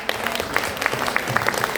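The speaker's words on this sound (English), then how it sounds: "Give her a second round of applause." Audience applause at a leadership summit in a hotel ballroom, dense sustained clapping from a large crowd, close and even throughout the short stretch.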